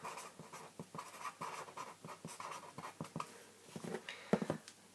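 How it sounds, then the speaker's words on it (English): Buttons on a calculator are pressed one after another to enter numbers, giving soft, close tapping clicks at a steady, slightly irregular pace, quiet and alone. "If I type that into my calculator"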